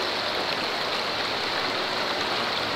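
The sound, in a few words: river flowing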